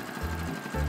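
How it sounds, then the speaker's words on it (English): A sewing machine stitching a French seam, a short close mechanical whir with a rapid needle rattle in two brief runs. "sew again to wrap the first seam with 1/4 inches of seam allowance"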